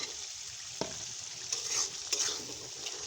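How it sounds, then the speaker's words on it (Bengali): Cut potatoes go into spice masala frying in a pan and get stirred, giving a soft steady sizzle with a few scraping strokes and clinks, fairly quiet and close, with no speech. "এ পর্যায়ে অ্যাড করব আমি কেটে রাখা আলু।"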